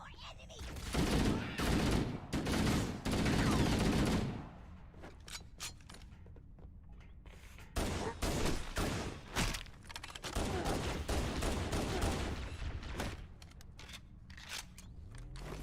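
Enemy gunfire in Halo: Combat Evolved rattles in dense bursts of rapid shots, loud and close, dropping to a lull before another volley. One voice shouts briefly.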